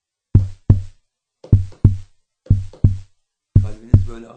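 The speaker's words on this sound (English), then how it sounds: "That's how your heart beats." A heartbeat in paired lub-dub thumps, four evenly spaced double beats that are deep, loud and close, with nothing else heard.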